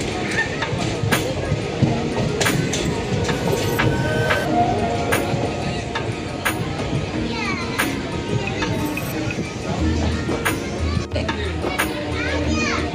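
Junagadh train number 59559 pulls into Sihor station, with a dense bustle of children's and adults' voices over low rumbling and clattering carriage noise throughout.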